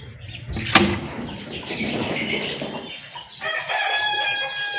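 Spotted and Kappiri hens cluck steadily while a rooster crows loudly nearby, with a farmyard bustle underneath and a sharp clatter early on.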